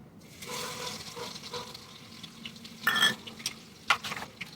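Cumin seeds hit hot oil in a home kitchen pan and break into a sharp, bright sizzle, with crackling bursts flaring up over a soft, steady hiss.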